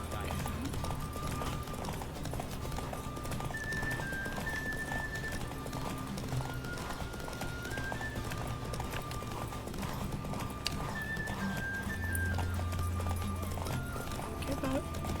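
A horse galloping in the Witcher 3 video game, a fast, steady clip-clop of hooves that runs throughout with game music and effects layered underneath, while a person talks over it.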